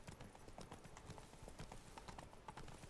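Horse hooves clip-clopping in the video game Witcher 3, a steady rapid run of hoofbeats at a close, even level that keeps on for the whole stretch with no pause.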